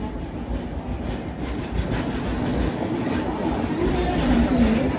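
Alleppey to Dhanbad Bokaro Express rolling along with a steady, dense rumble of wheels and carriage noise heard from on board, with faint squealing tones rising near the end and murmuring voices in the background.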